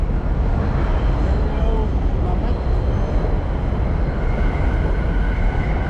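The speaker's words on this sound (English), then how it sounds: "so that is the 7 train" A New York 7 subway train rumbles and roars steadily nearby, a dense continuous clatter of rails and wheels filling the whole stretch.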